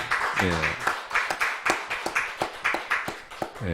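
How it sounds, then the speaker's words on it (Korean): Church congregation clapping in rhythm at a Friday late-night prayer meeting, a string of distinct, evenly spaced claps close by, with a voice talking between them. "하나님께 우리 영광의 박수 올려드리겠습니다"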